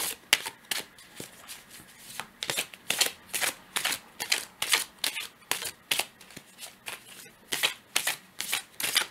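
Tarot cards are shuffled by hand in repeated riffling bursts with short pauses between them, crisp and close, as the deck is worked before cards are drawn.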